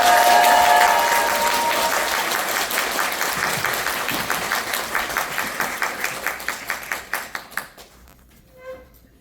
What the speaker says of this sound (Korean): 두 분 잘 아실 텐데 일단 큰 박수 한 번만 더 주세요